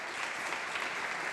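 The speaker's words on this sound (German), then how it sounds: "Erst nochmal ein herzlichen Applaus." At an innovation and entrepreneurship panel event, an audience claps steadily for the arriving guests, a soft, even wash of many hands heard from a distance.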